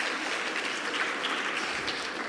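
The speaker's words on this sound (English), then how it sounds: "let's give Fabian another round of applause for his advocacy" A community forum audience applauds a speaker, a dense, steady wash of many hands clapping at moderate distance that holds evenly throughout with no voices over it.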